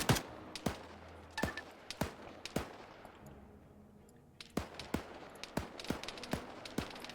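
Infantry gunfire in the Arma 3 video game during a town-clearing battle: scattered sharp rifle shots crack repeatedly at irregular intervals over a rumbling background, some closer and louder, with denser bursts toward the end.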